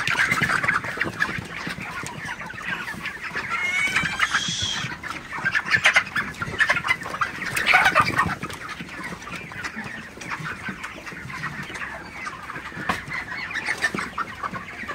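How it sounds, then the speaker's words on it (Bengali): A flock of broiler chickens clucks and chatters continuously while feeding, many birds close by making overlapping calls with occasional louder squawks. "দেখতে পাচ্ছেন সব মুরগিগুলো খাবার খাইতেছে আসলে।"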